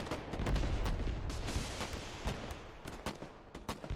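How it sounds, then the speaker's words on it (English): In the game Broken Arrow, Javelin missiles fire in a rapid scatter of distant cracks and thumps over a low rumble, faint and irregular, with no voices. "There go the javelins again"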